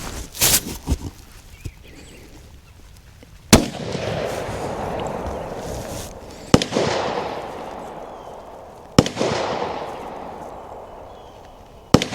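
A Savage Axis 2 Pro rifle in 6.5 Creedmoor fires Remington Core-Lokt 140 grain rounds outdoors, three loud separate cracks a few seconds apart, each followed by a long rolling echo, after some faint handling knocks.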